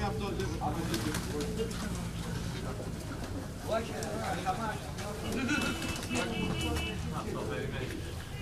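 Pigeons of a breed line kept since 1940 coo and murmur steadily throughout, mixed with a busy background of voices and bustle, fairly close and continuous, in Tyrnavos, Greece.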